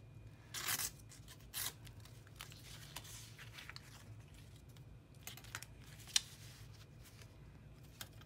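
Paper torn by hand during collage scrapbook work, heard as two brief sharp ripping bursts near the start followed by faint scattered rustles and taps in a quiet room.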